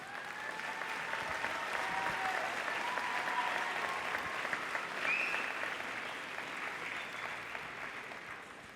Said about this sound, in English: Let's give each of you a round of applause for the accomplishments that you've made.